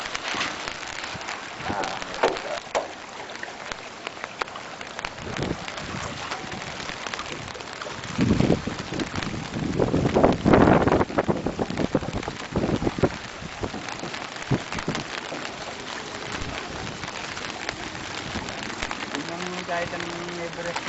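Steady heavy typhoon rain with gusting wind roaring through, rising in a strong surge midway, while voices talk intermittently over the storm, in San Simon, Pampanga.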